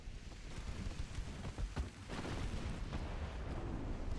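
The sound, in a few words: torpedo hits on a warship in a naval video game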